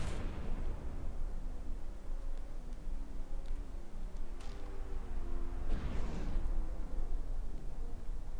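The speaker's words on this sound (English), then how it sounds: "See if the Wedge is able to get off another missile strike here." Missile strikes in a tank battle video game, a few dull booms and bursts rolling under a constant engine-like rumble, moderately distant and muffled.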